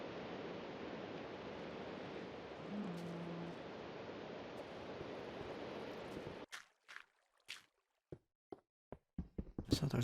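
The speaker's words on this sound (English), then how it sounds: "So there's water off in this direction. I hear that." Steady broadband rush of flowing water in the blocky sandbox game Minecraft Beta, a continuous hiss for several seconds that cuts off abruptly, followed by sparse short knocks and taps.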